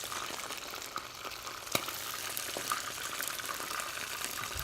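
Soft shell crabs fry in hot oil in a restaurant kitchen, a continuous close hiss and bubbling crackle with a few sharp pops spitting through it.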